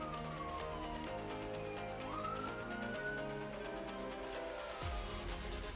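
Sirens wailing during Minecraft play, rising and falling tones over a backdrop of game music, steady in level with a sharp drop and burst near the end.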